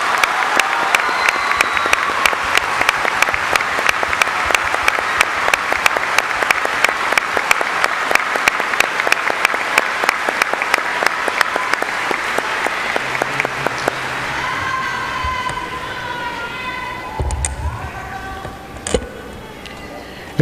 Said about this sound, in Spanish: Les brindamos un fuerte aplauso a nuestros hermanos seminaristas.